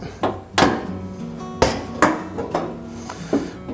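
Sheet metal along a floor seam on a 1972 Triumph GT6 being worked during restoration, with several sharp, separate metallic knocks and taps at an uneven pace, close and fairly loud.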